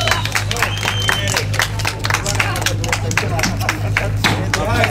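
Dense clapping from an audience at a Romanian National Motorcycle Speed Championship award ceremony for the Junior I and 85cc classes, steady and close throughout, with a voice speaking over the applause.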